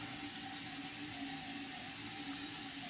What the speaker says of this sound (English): Let me just wash this off really quickly and I'll finish.